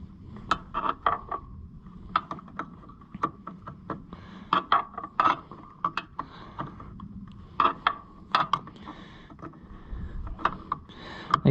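Metal clicks and scraping ticks from a wrench working a stubborn nut on an Oliver 77 Rowcrop tractor during reassembly, irregular close taps and rasps scattered throughout with no talking.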